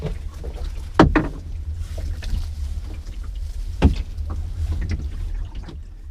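Wind over open water while fishing from an anchored boat, a steady low rumble of gusts against the microphone with a few sharp knocks and splashes against the hull.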